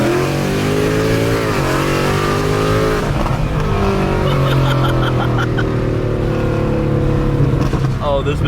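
A Mustang accelerating hard, engine revs climbing in a loud sustained roar with a gear change partway through, heard close from inside the car; a voice speaks briefly over it.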